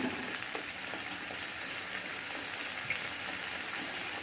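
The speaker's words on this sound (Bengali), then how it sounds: "মশলাটাকে খুব ভালো করে এবার কষে নিতে হবে।" Spice masala sizzles and fries in a pan while being sautéed for a creamy mushroom gravy, a steady bright hiss with faint occasional stirring scrapes, close and continuous with no talk.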